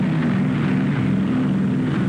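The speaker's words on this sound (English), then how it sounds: "fighter planes return to the carrier to refuel, rearm, and stand by to repel any new attack from the sky" WWII fighter planes heading back to an aircraft carrier produce a steady, droning engine roar that stays loud and unbroken throughout, with no voices.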